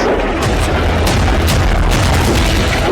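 Rocket and missile explosions in war footage, a loud continuous rumble broken by repeated sharp booms and blasts in quick succession.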